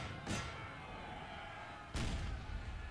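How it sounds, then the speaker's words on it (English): Cannons fire in the Napoleonic-era battle game Napoleon: Total War, two heavy booming shots about a second and a half apart over a steady battlefield rumble. "While our cannons continue to bombard their cannons."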